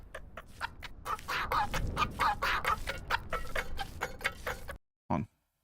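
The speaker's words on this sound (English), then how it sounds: "We're getting chicken noises now." Chicken clucking in the video game Baby Steps, heard as a rapid, busy run of short clucks over steady background sound for nearly five seconds, ending with one brief isolated burst after a pause.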